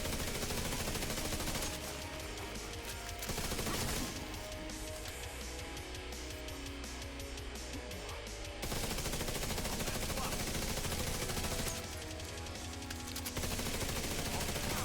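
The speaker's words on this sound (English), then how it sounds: "And shoot him in the head." Gunfire from a skill-tier striker build in The Division 2, rapid bursts of shots in the foreground over game music and effects, with a loud busy stretch in the middle and another burst near the end.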